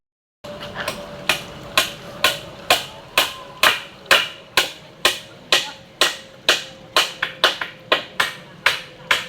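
A hammer pounds steadily, about two sharp metallic blows per second, close and loud, each ringing briefly before the next strike.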